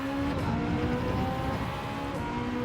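Car engine in Gran Turismo 7 with hypercars on track, a steady droning engine note with brief rising passes, moderately loud and continuous.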